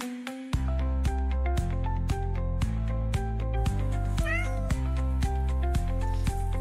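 A cat meows several times in a steady series while sniffing around searching for hidden treats, the calls close and clear with a brief rising chirp in the middle.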